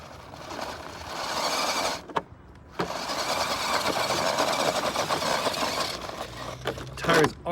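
Electric motors of a Redcat RidgeRunner RC crawler whirring as it climbs over rocks, a continuous buzzing drone broken by a couple of short pauses and a final burst, with some talking.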